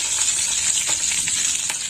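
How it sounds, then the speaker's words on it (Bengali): A tempering of panch phoron, dry chilli and bay leaf frying in oil, a steady close sizzle with faint stirring taps and no voices. "ফোড়নটা একটু ভাজা হোক"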